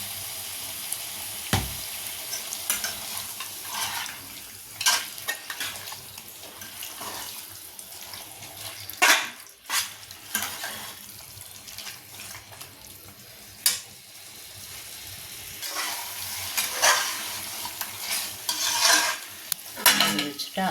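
Chicken pieces for spicy pepper chicken sizzle in a pan while a spoon scrapes and stirs in irregular bursts, with occasional louder clanks against the pan.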